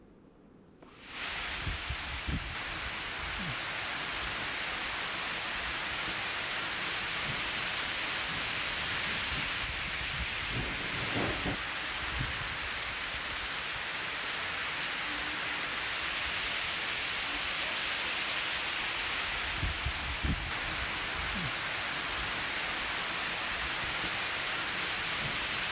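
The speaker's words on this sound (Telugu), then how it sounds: "జగిత్యాల జిల్లా కోడిమ్యాల మండలంలో భారీ వర్షం కురిసింది" Heavy rain pours steadily over Kodimyal mandal in Jagtial district, a dense, continuous hiss lasting throughout, with a few faint low rumbles that may be distant thunder.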